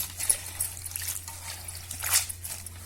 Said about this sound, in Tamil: தண்ணியை ஊற்றி வாழைப்பூவை நல்லா அலசி எடுத்துக்கங்க